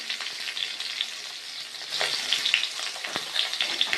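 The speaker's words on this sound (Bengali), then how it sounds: "সিম আর বেগুন আমার মোটামুটি ভাজা হয়ে গেছে। আমি এবার লবণ আর হলুদ দিয়ে দিলাম।" Flat beans and eggplant fry in a pan after salt and turmeric go in, giving a crackling sizzle with small pops and occasional stirring scrapes at close range.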